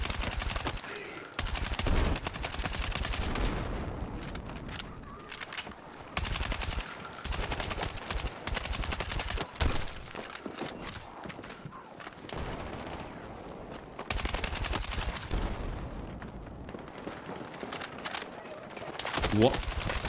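Gunfire in the video game Battlefield 6 comes in dense, rapid bursts of automatic shots over about twenty seconds, loud and close, with short lulls between volleys.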